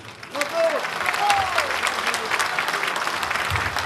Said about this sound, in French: je vous remercie encore d'applaudir Françoise